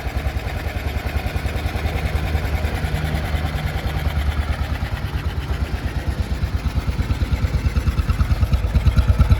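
A 1955 BMW R25 motorcycle engine idles close up with a smooth, rapid, even putter, running steadily and growing slightly louder toward the end, no voices.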